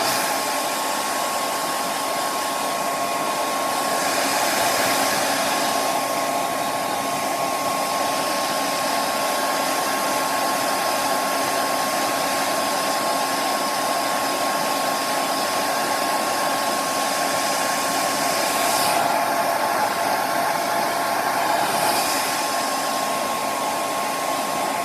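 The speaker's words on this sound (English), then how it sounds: "I'm going to blow each section dry because I don't want to tug and pull on her hair" A hair dryer blows steadily and loudly through a section of hair with a constant whooshing hum, its tone shifting slightly now and then as the airflow moves.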